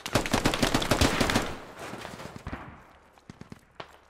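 Rapid automatic gunfire from a rifle in the military shooter game Squad rattles loudly and close in a dense burst, then fades into scattered distant shots.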